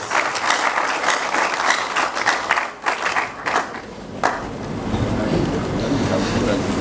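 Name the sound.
applause at induction ceremony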